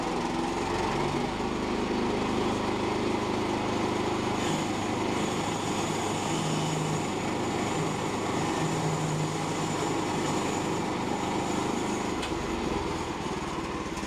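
A sawmill saw blade, somewhat dull, cuts through wood with a loud, steady motor drone and a continuous grinding whine that runs unbroken throughout, with slight shifts in pitch as the cut goes on.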